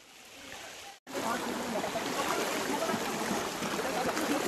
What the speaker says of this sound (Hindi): तो यहाँ से पूरा पानी जा रहा है झरने को।